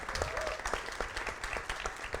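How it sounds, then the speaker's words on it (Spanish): An audience at a panel talk applauds a guest drummer, a dense, steady spread of many hands clapping at moderate volume throughout the brief moment. "Un aplauso para él."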